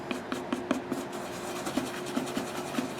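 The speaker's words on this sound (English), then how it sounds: "Sit there and just keep rubbing it with your finger, and then eventually that little spot goes away." A finger rubs wet fiberglass cloth strands in a series of soft, close scratchy strokes at an uneven rhythm, faint and alone.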